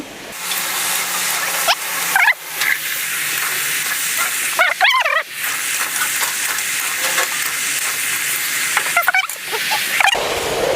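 Pumpkin pieces sizzling and hissing in a hot pan for potato-pumpkin curry, a steady loud frying hiss with occasional clanks and stirring scrapes.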